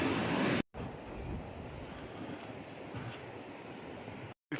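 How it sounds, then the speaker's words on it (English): A small partly frozen waterfall on a winter mountain trail near Everest base camp, a faint continuous rushing of water heard from nearby, briefly cut by short gaps. "a little nice waterfall there"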